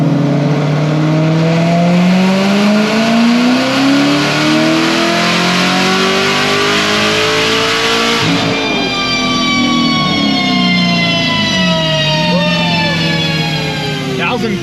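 A Chevrolet Corvette C7 Z06 with a Stage 5 RPM build revs hard on a dyno, the engine note climbing steadily in pitch through a loud, close pull, then dropping back and rising again.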